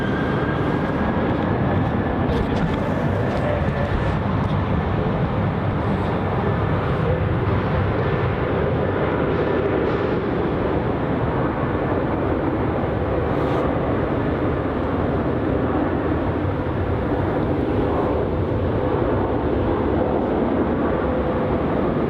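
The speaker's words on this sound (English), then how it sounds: "We have another departure here off runway 34. This is going to be our QF flight 410 heading off to Sydney." Heard from a distance, a Qantas airliner takes off from runway 34 at Melbourne Airport, its engines producing a sustained broad roar that holds steady for over twenty seconds.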